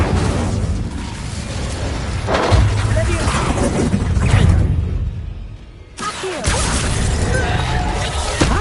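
Incendio fire spell cast in the Hogwarts Legacy video game: loud, dense roaring blasts and whooshing bursts run nearly the whole time, with a brief drop to near silence before a fresh surge of fiery noise.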